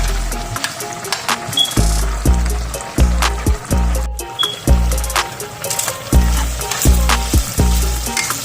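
Meat fries in a pan with a steady loud sizzle, broken by repeated rhythmic scraping and stirring strokes of a utensil against the pan.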